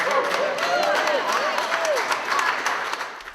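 At a State House rally against abortion, a crowd claps and cheers steadily, with dense applause and scattered voices holding at an even level throughout.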